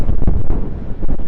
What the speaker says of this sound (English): It is quite windy out.